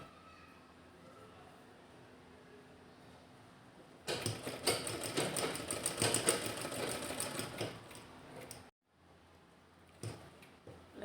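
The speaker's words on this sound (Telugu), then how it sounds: "ఇలా సైడ్స్కి మాత్రం స్టిచ్ చేసుకోవాలి" A sewing machine stitching the side seams of a dress top runs in a fast, rattling burst of needle clatter for about four seconds, stops, then gives a brief short run, close and loud against a quiet room.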